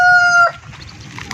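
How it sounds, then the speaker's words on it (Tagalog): A Black Australorp rooster's crow rings out loud and close, its sustained tonal call ending abruptly after half a second, followed by quieter farmyard fowl murmuring and clucking. "Dito yung Texas natin, yung Black Australorp na lalaki"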